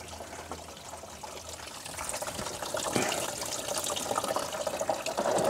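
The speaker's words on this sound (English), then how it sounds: "I'm going to flush the rest of the system with a hose with some fresh water" Fresh water from a hose rushes steadily through the cooling system of a Citroën C6 after a new header tank is fitted, a continuous splashing flow that grows louder and fuller partway through.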